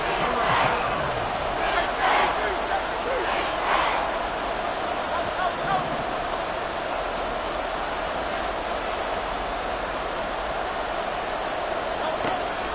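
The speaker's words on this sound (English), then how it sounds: "This red zone is where the Seahawk crowd really makes it tough for an offense to communicate." A Seahawks home crowd roaring in the stadium on third down, a vast, steady wall of cheering and yelling that swells in bursts early on, with a commentator's voice faintly underneath.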